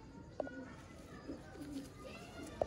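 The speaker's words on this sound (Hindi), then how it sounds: "इन कबूतरों को हम नोकी कहते हैं। क्रॉस के कबूतर हैं ये।" Soft cooing from cross-bred pigeons kept by a fancier, several short throaty coos spaced apart over a quiet, faint background, with occasional sharper bird notes.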